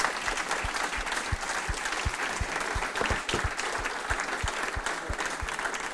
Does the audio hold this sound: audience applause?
yes